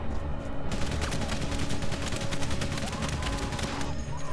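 Dense machine gun fire rattles continuously in a Valiant Hearts battle at the Chemin des Dames, mixed with a fusillade of rifle shots and loud, sustained combat noise throughout.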